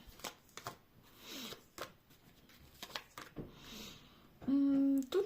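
Tarot cards riffle and flutter in several quick bursts, followed by a short steady tone near the end.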